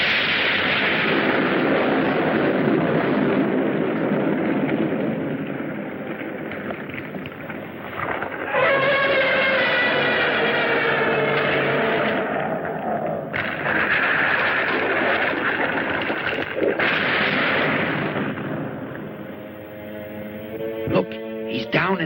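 A freezing bomb fired at the giant turtle monster Gamera in a 1965 Japanese kaiju film gives a loud, sustained blast and roaring rumble lasting many seconds, with tonal cries and shouting voices rising over the din.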